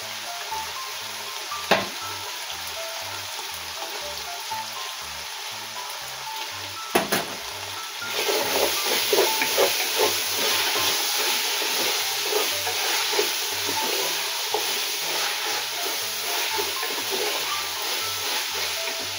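Crushed lemongrass dropping into a hot pan of cooked ground meat, a steady loud sizzle of frying that swells after a clatter midway, with stirring scrapes throughout.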